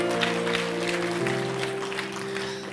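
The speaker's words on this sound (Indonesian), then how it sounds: "Kasih tepuk tangan yang meriah buat Tuhan Yesus." A church congregation claps during a worship service, a dense wash of applause layered over sustained keyboard chords that shift once partway through.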